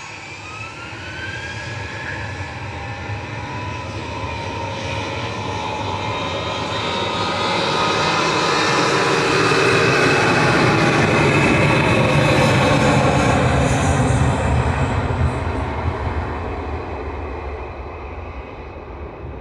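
Singapore Airlines jet airliner coming in to land at Manchester Airport, a loud engine roar that builds steadily, peaks close overhead, then slowly eases, with no talk.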